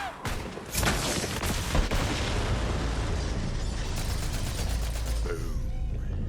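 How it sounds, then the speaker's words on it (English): A loud explosion in the video game Borderlands 3 bursts out near the start, followed by a second blast and a sustained roaring, rumbling wash of debris and fire that fades slowly. "The explosion echoed through the forest"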